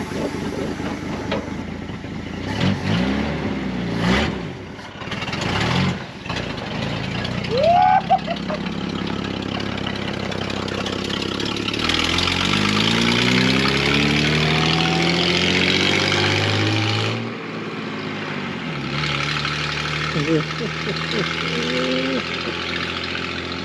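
A 1954 Plymouth Savoy engine running after decades off the road, with a hanging throttle: a loud, close rumble with several revs that swell and fall, knocking undertones, and a few sharp clunks early on.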